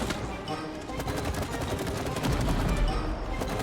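Gunfire from a shooting sequence in the co-op video game It Takes Two, dense rapid bursts running throughout, with an excited voice shouting over the battle sounds.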